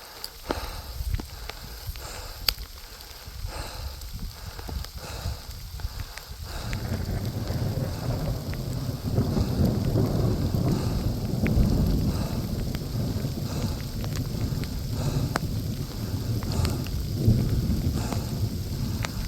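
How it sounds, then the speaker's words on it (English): Steady rain falls outdoors on a mountain canyon hike, a broad continuous hiss with rustling and wind buffeting the microphone, growing louder and denser after the first few seconds. "At least the rain's helping to cool us off a bit."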